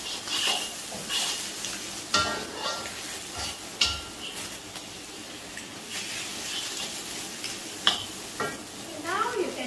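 Penang-style char koay teow is stir-fried in a wok at home, with a continuous sizzle and repeated metallic clanks and scrapes of the spatula against the wok. Some faint speech may sit in the background.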